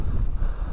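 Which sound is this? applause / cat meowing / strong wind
strong wind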